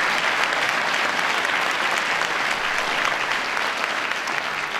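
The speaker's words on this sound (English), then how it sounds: "Give them a big round of applause." A large audience at a veterans' event applauds senators and representatives, a steady, loud wash of many hands clapping that holds evenly from start to finish.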